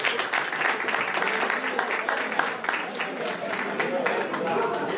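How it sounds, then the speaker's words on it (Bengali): A crowd applauds steadily at a BanglaRongo 2024 gathering, dense sustained clapping through the whole stretch with some voices underneath. "এদের সবার জন্য জোরে করতালি"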